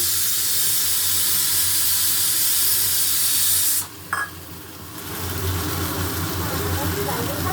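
Ginger, cumin, garlic and turmeric hit a hot pan with a loud, continuous hissing sizzle that drops off sharply, then returns softer with a low rumble underneath.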